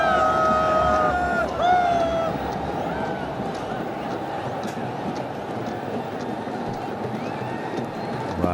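Crowd at a Pakistan versus Sri Lanka T20 cricket match, a dense, steady roar of many voices filling the stadium with whistle-like tones early on, loud and continuous.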